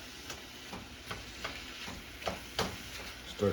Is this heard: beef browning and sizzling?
yes